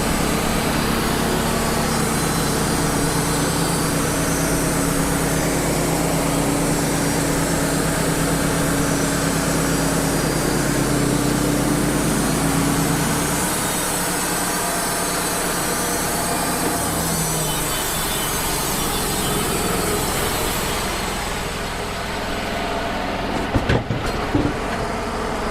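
A Wood-Mizer sawmill cutting a red oak log into 5 quarter lumber, a loud continuous engine drone with steady blade whine that dips partway through and ends with a few clanks, no talk.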